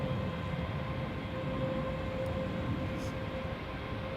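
Air Baltic airliner engines spooling during an aborted takeoff at Schiphol's Polderbaan runway, a steady broadband roar with a faint whining tone, heard at a distance and continuous throughout.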